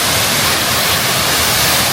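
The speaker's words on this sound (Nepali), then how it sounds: "यो झरना" A waterfall in Japan during summer roars loud and close as a continuous broadband rush of falling water, with no speech over it.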